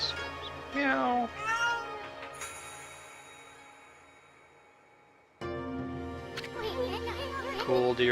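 A cat meows in the video game Okami, several rising, wavering meows early on, then later more meow-like calls mixed among game music and a voice talking.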